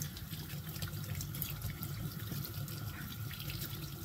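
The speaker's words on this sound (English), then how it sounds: "I'm just going to rinse these off really well, and I'm just going to put them in my colander so they can start to drain." Tomatoes rinsed under a running kitchen tap, with steady close water flow and splashing that hiss continuously in a sink, no voices.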